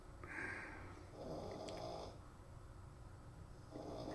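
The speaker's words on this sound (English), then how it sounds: "Hunter's over there snoring, by the way" Faint snoring from a person sleeping nearby, several slow rasping breaths in a steady rhythm, quiet and a little distant.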